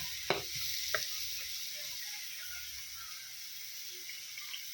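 Climbing perch curry sizzling in a pan as it is stir-fried, a steady soft hiss with a couple of sharp utensil knocks near the start, no voices.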